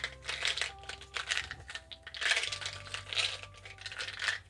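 Elder Futhark runes shuffled by hand inside a small box, giving a steady stream of light clicking, clacking and rattling as the pieces tumble against each other, close and fairly quiet, with no talking.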